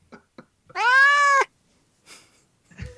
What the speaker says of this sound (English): Kitty sound effect